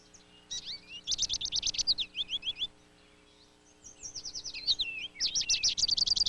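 Finches feed at a backyard Niger seed feeder in winter into spring. Rapid, bright chirps come in two dense bursts, separated by a brief quiet pause, close and lively.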